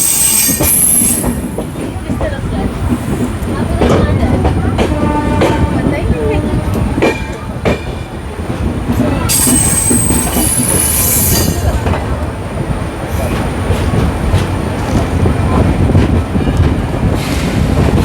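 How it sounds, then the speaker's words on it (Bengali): A train, the Padatik Express, rumbles loudly and close into New Jalpaiguri station, its wheels squealing and clattering over the rails, with wind buffeting the microphone. "ট্রেন এসে পৌঁছালো নিউ জলপাইগুড়ি স্টেশনে।"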